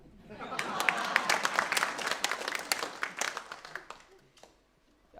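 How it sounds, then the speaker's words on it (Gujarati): A live audience at a Gujarati comedy show bursts into applause, a burst of many sharp hand claps that swells, holds for a few seconds, then thins out and fades to quiet near the end. "તમે તો સારી તાળી પાડો છો, સરસ મજાની મસ્ત તાળી પાડો છો"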